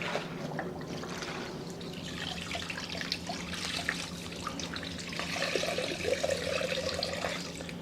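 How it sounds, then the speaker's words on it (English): Hot water runs steadily from a tap for cleaning a floor, a continuous hissing splash with slight gurgling changes, heard close and alone. "Nice hot water."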